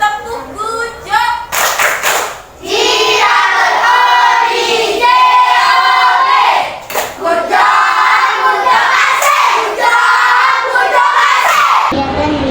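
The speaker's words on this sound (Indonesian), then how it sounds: "Kita berikan tepuk good job. Tepuk good job." A classroom of children performs a rhythmic 'tepuk good job' clapping cheer in a school lesson, loud and close, with bursts of patterned clapping and shouted chanting voices over about twelve seconds.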